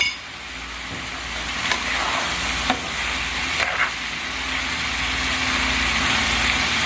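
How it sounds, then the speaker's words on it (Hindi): Chicken pieces for qorma fry in a pan with steady, close sizzling while a spoon scrapes and stirs now and then, a few sharper clicks standing out over the continuous crackle; no one speaks. "अब इसको मज़ीद हम भूनेंगे जब तक कि इसका कलर चेंज हो जाए, गोल्डन हो जाए"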